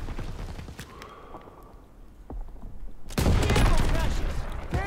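Gunfire in the video game Call of Duty WW2, with a sniper rifle in use; scattered distant shots first, then a loud dense burst of firing and explosion-like rumble filling the last seconds.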